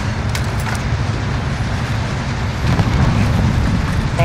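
A rocket launch in Call of Duty Warzone: a steady, loud low roar with dense rumble that swells slightly louder toward the end, with no talk.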